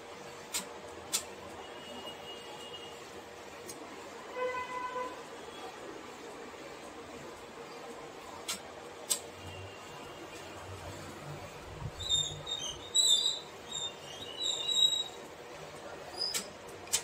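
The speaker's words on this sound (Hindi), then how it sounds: "ये हमारा चल रहा है प्रिंटिंग, देखिए अभी हमें 26 सीटें छापनी है, हमारे यहाँ पर चल रही है प्रिंटिंग" An Epson L15150 inkjet printer prints on plastic vinyl sheets, giving off a faint, steady mechanical whir with scattered light clicks and a few brief higher chirps from the print mechanism, quiet throughout.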